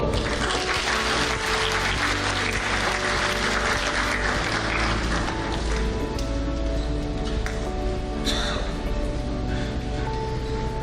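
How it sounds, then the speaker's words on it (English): Dense, steady applause from a conference audience at an award announcement fills the whole stretch, with music or a low hum running underneath. "And now, for the 1st place, we applaud Mr. Asmar Hussain"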